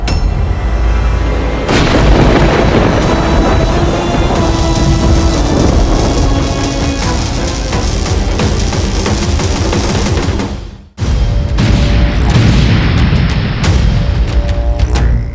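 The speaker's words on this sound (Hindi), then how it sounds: "अब देखो रावण के बाणों की आंधी।" Thunderous battle sound effects for Ravana's storm of arrows in a mythological Ramayana duel: dense, loud, continuous booms and rumbling blasts, a sudden near-silent break around the eleventh second, then the barrage resumes.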